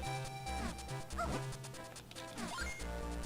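A dog in Zelda: Minish Cap gives several short chiptune-style barks and yips, heard at moderate volume over looping game music.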